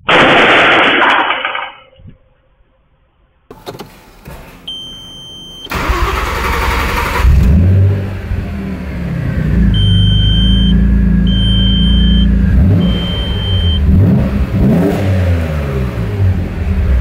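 An Audi A6 2.7 V6 turbo cranks and catches, then settles into a loud, close idle with repeated revs rising and falling, after an earlier burst of engine noise that cuts to near silence.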